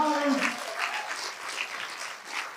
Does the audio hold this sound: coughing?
no